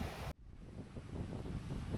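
Ocean surf rolls onto the black sand at Batu Bolong beach in Canggu, Bali, in a steady, dense wash of noise with gusting wind buffeting the microphone.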